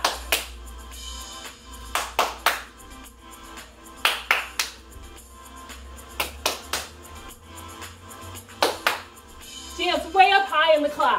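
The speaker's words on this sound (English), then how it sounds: "Let's try a triple clap." Sets of sharp hand claps in quick groups of three, repeated through a kids' dance routine while an instructor talks over steady background music.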